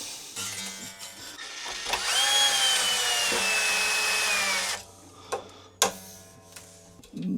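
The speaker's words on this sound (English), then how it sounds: "With the Milwaukee drill" A Milwaukee power drill whirs steadily for a few seconds while working on a Fender acoustic guitar, winding up and running continuously, then stops, followed by a few sharp knocks and clicks.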